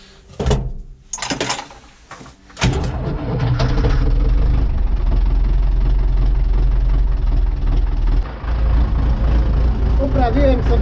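A Zetor C360 tractor with a blown head gasket starts up after some door clunks, then settles into a loud, steady low diesel idle close by, with a brief dip partway through.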